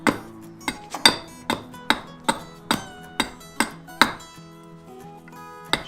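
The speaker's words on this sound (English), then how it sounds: "You can use a simple carving axe to get your tenon" A carving axe strikes a wooden tenon in sharp, evenly spaced chops, about a dozen hard woody knocks in a steady rhythm, close and clear with no talk.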